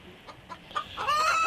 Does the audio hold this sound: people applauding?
no